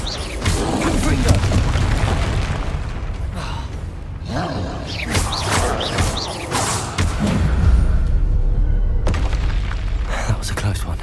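A fiery Confringo spell blast erupts in Hogwarts Legacy, with loud booms and crashing debris amid continuous dense combat noise.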